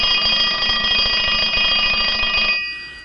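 A bell rings continuously with a bright, steady metallic tone and rapid rattling strikes, loud and close, stopping abruptly near the end.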